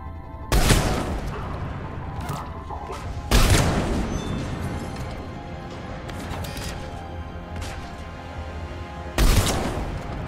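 Heavy cannon fire in the Mass Effect 3 video game: three loud, sharp booming blasts, each followed by a rumbling decay, spaced irregularly over a continuous low battle din.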